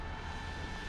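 Steady, even whir of a Nano Talon RC jet plane's motor in flight, a continuous broadband hum held at one level for a moment with no talk.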